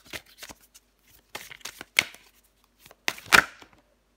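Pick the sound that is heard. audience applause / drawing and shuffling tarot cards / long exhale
drawing and shuffling tarot cards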